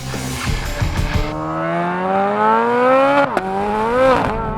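Chevrolet Corvette Z06 with its mid-mounted flat-plane crank engine, revving hard and climbing steadily in pitch, loud and close, with a brief crackle and a dip before it pulls up again.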